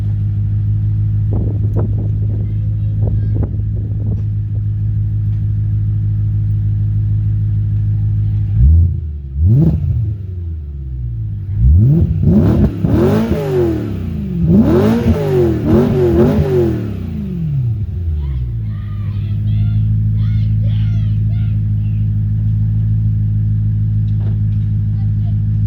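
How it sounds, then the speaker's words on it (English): A Ford Ranger engine idles with a deep steady drone, then revs hard several times in rising bursts before settling back to idle. "let me give a couple of revs"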